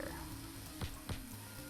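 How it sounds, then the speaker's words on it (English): Bananas Foster flambéing with butter and sugar in Cook, Serve, Delicious!, a steady soft sizzle with two brief louder flares of the flame partway through. "You gotta put the butter and the sugar in, and then light it on fire."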